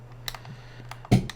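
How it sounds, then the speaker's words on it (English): A single short mechanical click sounds in Farming Simulator 17 as a chair goes down, a brief, fairly loud snap preceded by a few faint ticks. "as you just heard that click, that was the chair going down"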